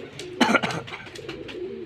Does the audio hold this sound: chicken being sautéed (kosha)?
no